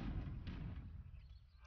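Cannons fire in the real-time strategy game Age of Empires III, a faint, muffled low boom that rolls out and decays over a second or so, with a deep rumbling tail.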